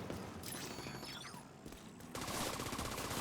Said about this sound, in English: Some gunshots on both areas